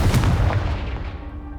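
In Hogwarts Legacy, a Confringo blasting spell hits a pile of debris blocking a stairwell: one sharp, close blast that rolls away into a fading rumble and ends in near quiet.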